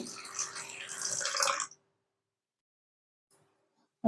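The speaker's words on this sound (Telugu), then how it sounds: "ఇప్పుడైతే గోరవచ్చటి నీళ్ళు అయితే వేస్తున్నానండి" Warm water splashes and trickles steadily over dried fish for about a second and a half, then stops, leaving near silence with a faint knock near the end.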